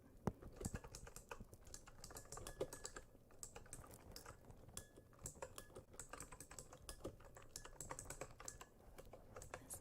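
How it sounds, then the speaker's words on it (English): Quiet, continuous typing on a computer keyboard with mechanical-sounding keys, captured close to the microphone in a soft, steady patter of clicks with irregular bursts. "I am going to type a couple responses."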